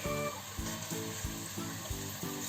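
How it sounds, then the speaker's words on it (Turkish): Onions stirred while frying in olive oil in a pan, for a Turkish olive-oil artichoke dish: a steady close sizzle with regular scraping stirs about every half second, heard alone. "Biraz ocağın altında Orta hızla karıştırıyorum."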